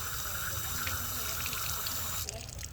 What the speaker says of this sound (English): hardly any water is coming out, and I have the water full flow going in.